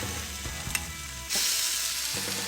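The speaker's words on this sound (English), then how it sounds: "That sizzle is how I know I'm going to get those gorgeous char marks." Yogurt-marinated chicken skewers hit a hot grill and sizzle with a steady, loud broadband hiss that swells partway through, with a few clicks and scrapes as they are laid down.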